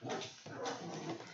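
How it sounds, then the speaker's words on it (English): Dogs bark, yip and whimper in play, close by, in short excited bursts with no voices. "Y'all hear these crazy dogs over here playing"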